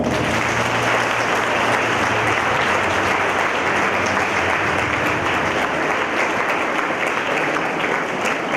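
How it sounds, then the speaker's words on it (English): Audience at a national moot court competition valediction applauding, a loud unbroken roar of many hands clapping that holds steady throughout. "Let's give a very big applause."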